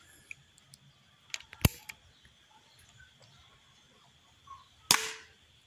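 A single sharp shot from an 80 lb crossbow firing an aluminium arrow cracks out, followed a few seconds later by a louder thwack of impact, with faint outdoor ambience between.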